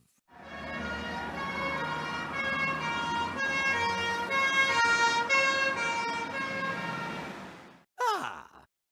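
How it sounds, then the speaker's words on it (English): A wailing siren rises and falls steadily for several seconds, loud and fairly close, then cuts off, followed by a brief sharp sweep. "That sounds like the police now, just in the nick of time."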